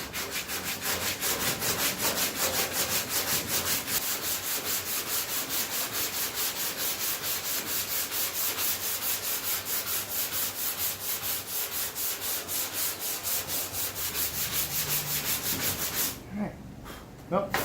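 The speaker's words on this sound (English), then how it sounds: "So this is 180 grit, and according to the tech sheet on the body filler, I can start sanding at 180 grit," Dried body filler on an F250 dash is hand sanded with 180 grit sandpaper in quick, even back-and-forth strokes. The rasping is close and steady for about sixteen seconds, then stops, and a few faint knocks follow.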